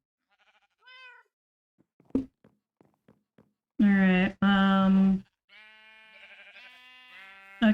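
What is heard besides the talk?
sheep bleating in a video game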